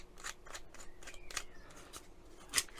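Scissors cut sheet material to size for 3D-printed sanding blocks. About eight crisp snips come in a fairly even rhythm, close and moderately quiet, with no voices.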